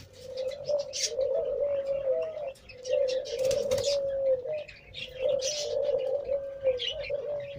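High-flying teddy pigeons in Pakistan coo in repeated soft, throaty phrases close by, with rhythmic bursts and brief pauses, accompanied by occasional chirps and faint rustling in the loft.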